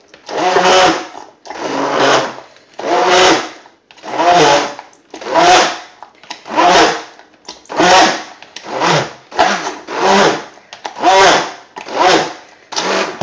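A hand blender pulses through pumpkin and sweet potato soup in a steady rhythm of about ten loud whirring bursts, each lasting roughly a second with short pauses between them.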